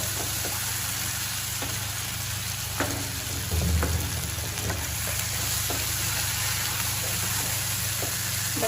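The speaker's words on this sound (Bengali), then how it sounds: "তো আমরা এবার মশলাগুলো ভালো করে কষাবো।" Spices and chillies frying in hot oil with a spice paste for a Bengali potol and dal dish, making a steady sizzle with occasional scrapes and clinks of stirring in the pan.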